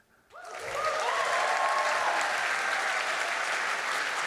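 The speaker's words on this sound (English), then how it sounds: "So give a big applause to the committee we have here." An audience at the A MAZE. Berlin 2025 award show breaks into applause after a short quiet moment, and loud, dense clapping from a large crowd swells and carries on steadily to the end.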